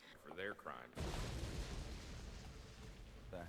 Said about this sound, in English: That was the sound of a building collapsing from some sort of explosion.